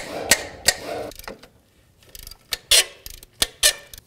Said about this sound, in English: I'm gonna break free this alternator mounting bolt here with a 14 millimeter